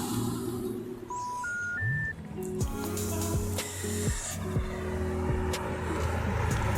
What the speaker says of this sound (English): Another Corvette.